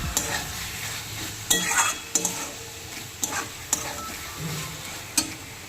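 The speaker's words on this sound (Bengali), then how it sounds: "দেখতেই পাচ্ছেন পোস্ত দিয়ে কিন্তু আমি নাড়াচাড়া করে নিচ্ছি" Ash gourd fries with poppy seeds in a pan, a continuous close sizzle broken by repeated sharp scrapes and clicks of a spatula stirring against the metal.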